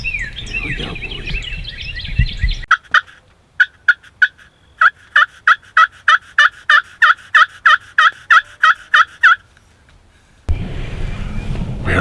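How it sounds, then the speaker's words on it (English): A wild turkey gobbles from a tree during a hunt, loud, clear and close, with a string of sharp repeated calls for several seconds before the outdoor noise returns. "Listen to that gobble."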